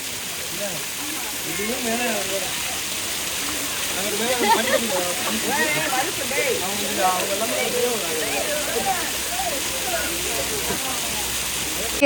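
Water roars in a steady broadband rush at Kodiveri waterfall, loud and continuous, while several voices talk and call out over it.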